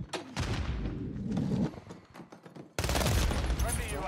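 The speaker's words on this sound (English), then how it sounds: "Oh no, I'm getting shot" Rapid bursts of automatic gunfire in Call of Duty MWIII crackle in dense volleys, break off briefly, then return loud and sustained, with a player talking over the shooting.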